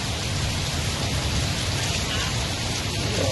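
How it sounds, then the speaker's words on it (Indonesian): Heavy rain pours down during a flood in Jayapura, Papua, a dense, steady hiss that stays loud and unbroken throughout, with no voices. "Hujan deras."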